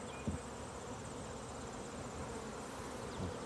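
Honey bees hum steadily around an opened backyard beehive, a faint continuous drone with a few individual bees passing close by.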